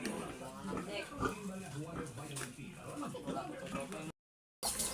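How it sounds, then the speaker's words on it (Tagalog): Pigs on a small farm grunt and oink repeatedly in a close, busy chorus, with a person talking over them before a brief cut to silence. "Mga baboy di oh."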